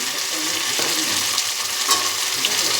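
A spice masala for garlic and pointed gourd curry sizzles and fries steadily in a pan, a continuous close hiss with faint stirring, no voices.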